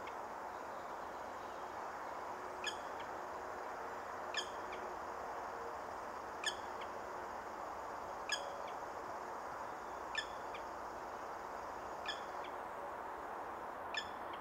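In the countryside a bird near nests with chicks gives short, sharp chirps at regular intervals of about two seconds over a steady broadband background rush.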